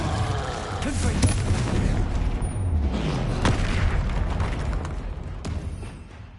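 Confringo blasting spells in the Hogwarts Legacy video game, a run of loud booming explosions with sharp cracks rolling one after another, mixed with dense battle noise.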